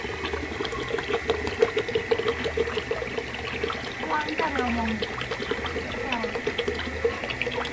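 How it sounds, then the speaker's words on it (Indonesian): Liquid is poured into a bucket while making organic liquid fertilizer from cow urine, a steady splashing, trickling stream close by with people talking over it. "Kita masukkan ke dalam ember"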